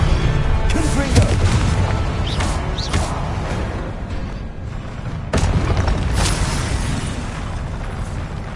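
A Confringo blast spell fired in Hogwarts Legacy on PS5: loud booming explosions with a rumbling tail, a second heavy burst following midway, mixed with faint game effects.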